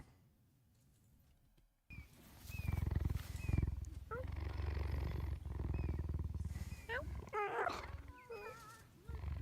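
Cheetah vocalizing against a constant broadband background rumble, with short rising chirp-like calls that cluster into a quick, busier run toward the end; no one speaks.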